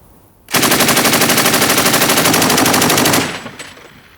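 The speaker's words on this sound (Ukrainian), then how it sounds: "Незаконно стріляють з кулемета із такою розкішною оптикою." A Heckler & Koch MG4 machine gun fires one long, sustained burst of rapid, evenly spaced shots, very loud and close, ending abruptly and followed by a brief echoing tail.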